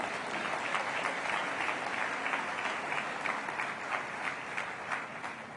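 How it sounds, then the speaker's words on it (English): An event audience gives a sustained round of applause, a dense, steady roar of many hands clapping without pause throughout, fairly loud and unaccompanied by speech. "How about a round of applause for all of them?"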